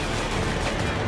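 Dense, loud gunfire from Call of Duty: Modern Warfare 3, a brief continuous burst of rapid shots with no talking.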